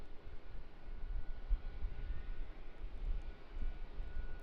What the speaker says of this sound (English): Get head on with the Max 8 again as it taxis into the gate.